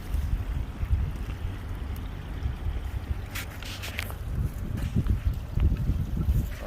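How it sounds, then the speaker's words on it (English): Water from a waterfall spilling into a large 35,000-gallon koi pond, a steady broadband rush and splash that stays fairly constant, with slightly busier splashing toward the end. "the waterfall's almost across the whole thing"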